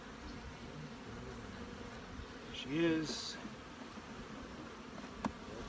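Honey bees buzzing around an open queen-rearing hive, a soft steady hum with a few louder passes close by, and a person speaks briefly.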